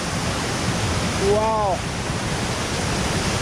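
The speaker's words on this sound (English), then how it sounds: "there's a whole beautiful waterfall right there" A waterfall inside the Cueva de los Guacharos cave near Jardin, Colombia, roars as a dense, constant rush. A short chirping call rises briefly above it midway, and a voice speaks once.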